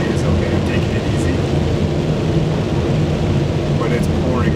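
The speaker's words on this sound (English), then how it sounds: "But it's pouring rain now." Heavy rain pouring during a storm, a loud dense wash of noise with low rumbling, steady throughout, with a voice faintly present.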